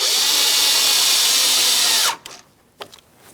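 A power driver runs steadily to snug a 7mm mounting bolt on the front door of a 2015-2025 Ford Transit 250, whining loudly and continuously for about two seconds before it cuts off, followed by a few light handling clicks.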